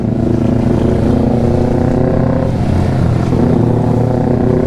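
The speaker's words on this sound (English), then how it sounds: "You see me keep my bike on low rim, it has sound like that one" A Kawasaki Ninja 400 motorcycle engine drones loud and steady while being ridden, a constant low rumble with layered harmonics and slight pitch wavering, close and continuous throughout.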